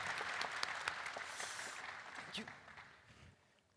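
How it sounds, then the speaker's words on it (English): An audience applauds as a speaker is welcomed to the stage, a broad crackling wash of clapping that gradually thins and fades toward the end, with scattered voices mixed in. "Please welcome him to the stage with a big applause"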